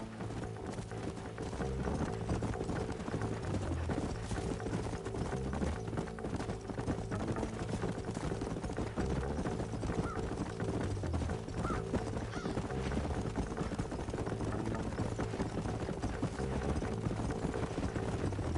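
Horse hooves clip-clop steadily in the Red Dead Redemption video game, a continuous rhythmic trot that runs the whole time under a dense, busy game soundtrack.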